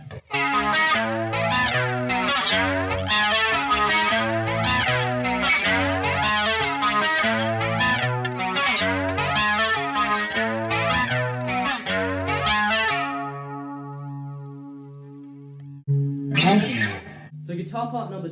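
Electric guitar driven by a Super Overdrive pedal with an Electric Mistress flanger, playing a continuous swirling arpeggiated riff for about thirteen seconds, then a ringing held chord and a short burst of strumming near the end.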